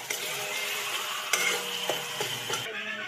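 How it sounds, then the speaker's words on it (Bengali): Chopped tomato sizzles in hot oil while being stirred in a pan for a chicken curry, a steady frying hiss broken by several scraping, clinking stirs of a utensil against the pan. "আর একটা টমেটো কুচি দিয়ে ভালো করে কষিয়ে নেব।"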